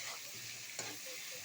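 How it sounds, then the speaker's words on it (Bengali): Spices with turmeric powder and salt sizzling faintly in a cooking pan, with a soft continuous fry and a single brief scrape as they are stirred, quiet and close. "সামান্য নাড়াচাড়া করব"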